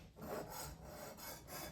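Knife edge worked up and down against the 320-grit coarse stone of a Work Sharp Precision Sharpener, giving a steady close scraping rasp in repeated strokes, with no talk.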